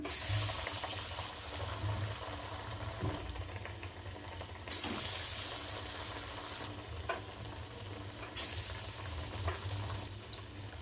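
Chana dal vadas fry in hot oil, a steady sizzling bubble with a few louder splashes as pieces go in, close and continuous without talk.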